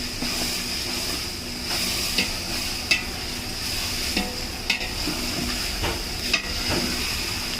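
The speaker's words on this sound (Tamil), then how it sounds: "ஆட் பண்ணிட்டு நல்லா இஞ்சி பூண்டை மிக்ஸ் பண்ணி விட்டுக்கோங்க." Ginger garlic paste stirred and fried in a pan for mutton biryani, a continuous hissing sizzle with regular spoon scrapes and knocks against the pan, near and fairly loud.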